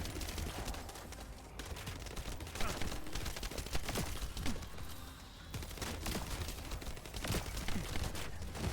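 Turret gunfire in the video game The First Descendant, a dense continuous barrage of rapid shots and crackling impacts, loud and close with steady battle noise throughout.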